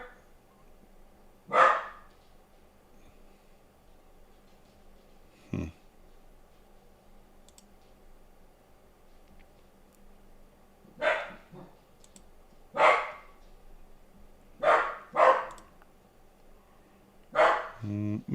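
A dog barks in short, loud bursts that come back again and again, with quiet stretches between them, over a faint steady background hum.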